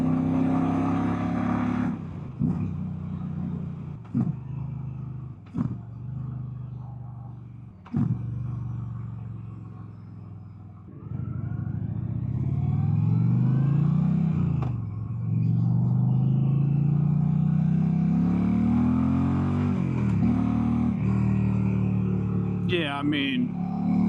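A 2025 Indian Challenger Limited bagger motorcycle accelerates hard, its engine rumble building into a loud, rising roar up close, with someone talking over parts of it.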